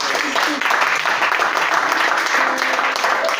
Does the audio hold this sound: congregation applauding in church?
yes